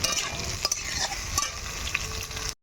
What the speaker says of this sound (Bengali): আমার এখানে কিন্তু ওলকপি আর আলুটা কিন্তু ভালো করে ভাজা হয়ে গেছে আমি এবার কাঁচা লঙ্কা আর কিন্তু টমেটো দিয়ে দিলাম